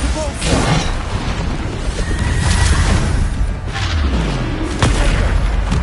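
Bombarda and Depulso spell effects in the video game Hogwarts Legacy, played on PS5: loud, dense booms and blasts rumble throughout with crackling debris and a continuous roar, with no gaps.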